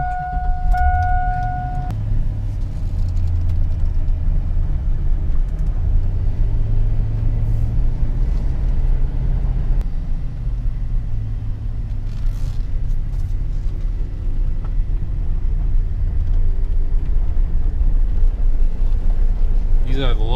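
2004 Chevrolet Silverado pickup driving at night, a steady low engine and road rumble continuing throughout, with a brief chime near the start and a voice talking over it.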